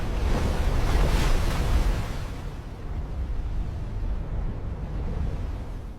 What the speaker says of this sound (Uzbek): Dengizlar esa toshmoqda.